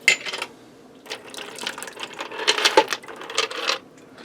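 A 24-ounce jar of pasta sauce being handled and emptied into a Ninja Speedi cooker over rigatoni, with clinks of glass, scraping and thick glugging in several close, irregular bursts and no talk.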